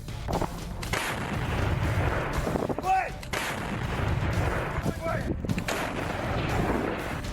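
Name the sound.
self-propelled heavy artillery gun firing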